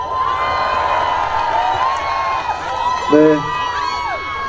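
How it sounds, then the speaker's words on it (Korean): An outdoor autumn concert audience in a forest-park setting cheers and applauds steadily throughout, a broad crowd roar with some shouts. Near the end someone speaks briefly over it. "이렇게 큰 박수 주시면요"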